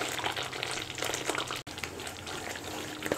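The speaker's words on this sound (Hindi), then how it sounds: "तो अब डालेंगे हम इसमें क्रीम।" Cream poured into a pan of cooked curd gravy, giving a steady bubbling sizzle with a brief break midway, fairly close and without talk.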